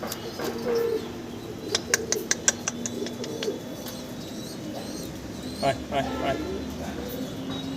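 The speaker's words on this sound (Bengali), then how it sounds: "এই যে ভাই আপনার কবুতর 2 পিস, এটা চুয়াচন্দনের ল্যাভেন্ডার চুয়াচন্দনের নর আর গড়ার মাদি।" A pair of pigeons, a lavender chuya-chandan male and a gola female, coo softly and intermittently beneath steady nearby talk and scattered clicks while being packed.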